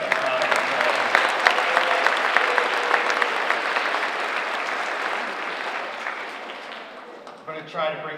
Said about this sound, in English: Give yourselves an excitement round of applause.